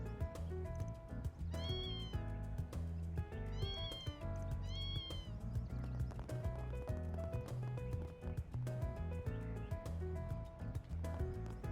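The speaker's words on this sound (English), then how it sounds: "Oh, another kitty." A cat meows several times in the Trails Through Daybreak video game. The rising cries come as three clear meows early on and sit above steady game music that carries through the whole stretch.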